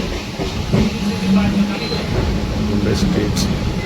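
A passenger train running on its rails near Dharavi, a steady close rumble and rattle of the carriages with faint hiss, and someone speaking over the noise.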